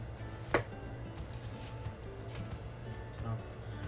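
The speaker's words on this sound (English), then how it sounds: "Then kind of cut like this, and you already get chopped onions" A knife chops through onions in a home kitchen with one sharp cut, followed by lighter taps against a board, over a low steady hum, with a person speaking nearby.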